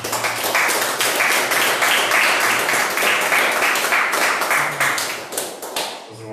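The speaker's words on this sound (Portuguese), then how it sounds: "E as palmas do Senhor Jesus." Congregation applause during a church service, continuous dense clapping that stays loud and steady throughout before thinning slightly near the end.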